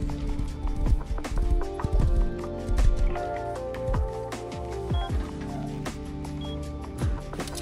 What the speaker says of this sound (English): Convenient horse right here